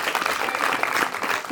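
Audience at a welcome event in Surendranagar for the Laalo film team claps loudly and steadily, a dense crowd applause filling the short moment without a break.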